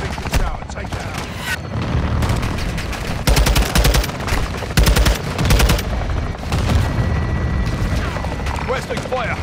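Weapons fire in Modern Warfare 2 Remastered: loud, rapid automatic bursts in two main volleys, crackling over a heavy low rumble of battle noise with scattered impacts around them.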